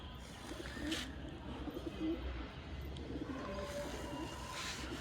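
Old-generation pigeons, Kalsila tumbler breeds kept in a home loft, coo softly in low repeated murmurs, several birds nearby over faint background noise, with no talk.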